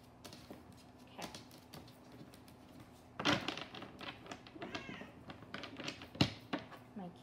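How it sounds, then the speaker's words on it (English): A house cat meows softly a few times at close range in a quiet indoor room, brief cries mixed with light taps and rustles, no talking. "My kitty's coming to say hi."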